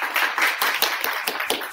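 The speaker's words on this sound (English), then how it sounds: "I think he deserves a round of applause" A small audience at a Kashmir dialogue event at the Middle East Institute gives a short round of applause, a brief patter of hand claps that is close and moderately loud, with no talk over it.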